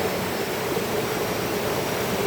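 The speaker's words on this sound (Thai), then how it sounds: "เอาเสียงน้ำไหล" At the Wang Takrai waterfall in its park, flowing water roars in one steady, even hiss with no breaks or voices.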